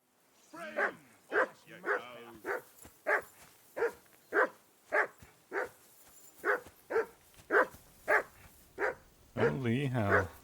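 A dog in a video game barks repeatedly in a steady rhythm of sharp, loud yaps at a campsite on a riverbank, with a voice breaking in at the end.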